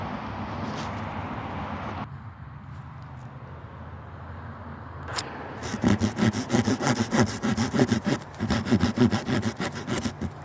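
A hand saw cutting notches into wood for a dugout shelter handrail, a faint rustle at first, then steady, rhythmic back-and-forth strokes that grow louder and continue to the end.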